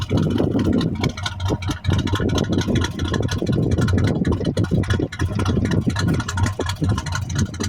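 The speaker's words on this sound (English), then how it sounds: "now we're off of the choke and down to a nice idle" A 1973 Chevy C10 pickup engine settles into a steady, loud idle once off the choke on a cold day, a continuous low rumble with a slightly uneven, pulsing beat close by.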